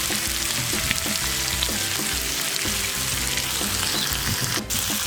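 Breakfast quesadilla ingredients with pork sausage and bacon sizzle and fry loudly and continuously on a Blackstone griddle, a dense steady crackle with occasional scrapes and no talking.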